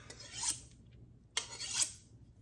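Two separate drawn strokes of a knife blade against a sharpener, each a soft scraping rasp that swells and fades, heard close with a quiet pause between.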